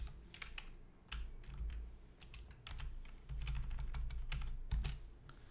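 Someone types on a computer keyboard in a SQL editor, keys clicking in irregular bursts and short runs, with thumps from heavier keys such as the space bar or Enter.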